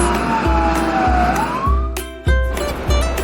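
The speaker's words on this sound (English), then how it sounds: "Ambulance." An ambulance siren sounds loud and near, a rising electronic wail with a rhythmic pulsing beat underneath and no talking.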